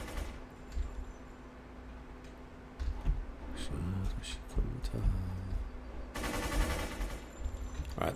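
Gunfire from the World of Warcraft-based game Project Epoch comes in short rattling bursts midway, then a denser volley near the end, over a low game ambience with occasional talk.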